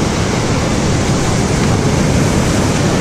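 Ocean waves break and wash steadily onto a beach, a loud, continuous roar of surf with wind buffeting the microphone and no talking.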